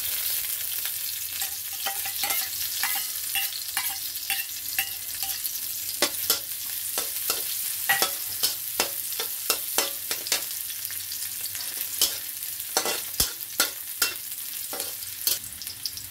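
Garlic and then onion sautéing in a pan, a steady close sizzle under repeated sharp scrapes of a spatula stirring through the pan, with no talking.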